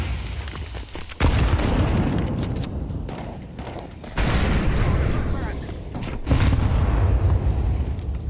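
Heavy booming blasts from grenades in a video game, three loud broadband detonations spaced a couple of seconds apart, each followed by a rumbling tail, with brief speech between.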